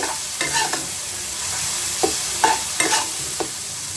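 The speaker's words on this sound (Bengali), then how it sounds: "আদা টমেটো একটু ভেজে নিচ্ছি বেশি বাড়তে হবে না জাস্ট একটু নরম হলে হবে" Ginger and tomato frying in oil in a pan, a steady close hiss with several short scraping stirs of a spatula; no one speaks.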